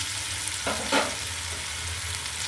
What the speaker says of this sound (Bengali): এবার বেশ ভালো করে এটাকে নেড়ে ঢাকা দিয়ে দেবো কয়েক সেকেন্ডের জন্য